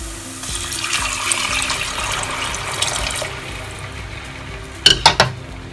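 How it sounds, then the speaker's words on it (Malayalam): Tamarind and masala water poured into ginger in a pan for Puli Inchi curry: a steady, moderately loud wash of pouring liquid for about three seconds, then quieter bubbling, ending with a few sharp clinks near the end. "ആ വെള്ളം ഇനി നമുക്കിതിലേക്ക് ഒഴിച്ചു കൊടുക്കാം"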